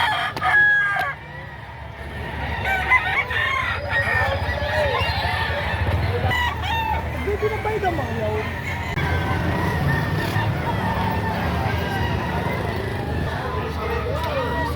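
Roosters crow repeatedly over a busy crowd of chickens clucking, with a steady murmur of people talking in the background, at a livestock auction market in Padre Garcia, Batangas, Philippines.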